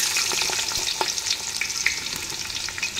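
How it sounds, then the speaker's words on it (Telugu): Long-sliced onions drop into hot oil for mutton paya and fry with a loud, even, close sizzle, punctuated by light stirring scrapes and spatters, no one talking. "ఆయిల్ వేడైంది. ఇందులో ఆనియన్స్, ఉల్లిపాయలు వేసేస్తున్నాను"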